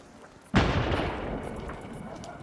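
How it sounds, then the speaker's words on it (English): A heavy artillery gun fires close by in a war zone, one sudden loud boom that rolls off into a long rumbling decay. "That's a heavy gun."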